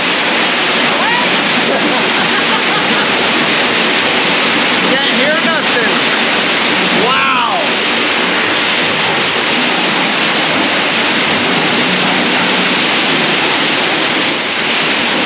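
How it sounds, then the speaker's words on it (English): Loud, dense roar of heavy hail drumming on the roof of an off-grid tiny house, continuous and overwhelming, with a voice speaking briefly underneath. "It's hail. That's why it's so loud."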